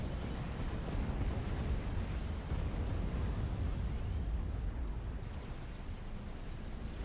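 Incoming artillery fire and explosions in the real-time strategy game Supreme Commander, heard as a continuous, dense rumbling roar of overlapping blasts that stays loud and steady for several seconds, with no voices.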